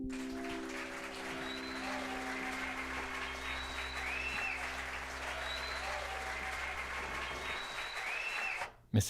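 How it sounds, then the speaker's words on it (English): Steady, sustained audience applause following a live music performance, a dense even wash of clapping that holds for several seconds before cutting off abruptly at the end. "I was waiting for that applause."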